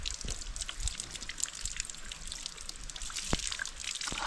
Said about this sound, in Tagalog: Walang katigil-tigil ang tubig.